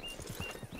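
A thoroughbred horse's hooves clip-clop in a short, steady patter within a video game, quiet and close, with no clear whinny standing out.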